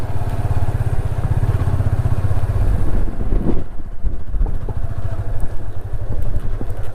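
A Yamaha FZS25 motorcycle engine runs at a steady idle close by on a Nepal mountain ride near Marfa village, a continuous low rumble with some wind noise and clatter.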